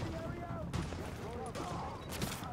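Enemy gunfire in the shooter game The Division, with several bursts of shots crackling over a dense, busy battle mix while a voice talks underneath.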